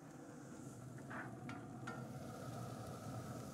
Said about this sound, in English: Can you hear the onion sizzle?